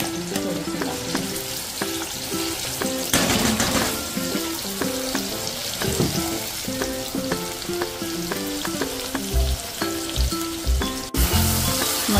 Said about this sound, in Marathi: तेल तापलंय, तेलामध्ये आपण टाकूया 2 चमचे वाटलेला मसाला, थोडंसं टाकूया।